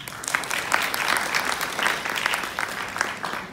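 Audience applause after a professor emeritus's address at an orthodontic practitioners' association event, a steady dense patter of many hands clapping, fairly loud and close, filling the whole stretch without talk.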